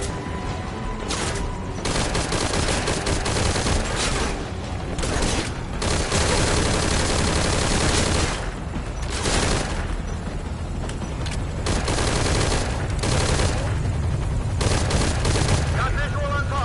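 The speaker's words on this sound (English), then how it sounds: "That rifle is equipped with an underbarrel grenade launcher." Rifle fire in Metal Gear Solid Ground Zeroes crackles in long, loud, close bursts, mixed with heavy booms from an underbarrel grenade launcher, while voices talk over the combat.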